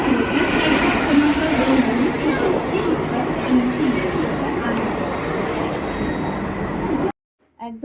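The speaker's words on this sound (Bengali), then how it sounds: "10 মিনিট অপেক্ষা করার পরে আমাদের ট্রেন চলে এসেছে" A commuter train pulls into a station near CSMT in Mumbai, a loud continuous rumble of wheels on rails with faint squeals and clatter, ending abruptly in near silence.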